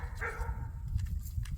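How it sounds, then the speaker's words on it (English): Dogs barking from a distance at an outdoor rifle range, a few faint, scattered barks and yips over low rumbling background noise, with no one speaking. "Wonder what the dogs are barking at"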